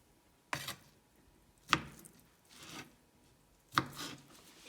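Meat being chopped into uniform pieces on a cutting board for low country hoppin' john, three sharp knife strikes spaced about a second apart, close and clear, with no voices.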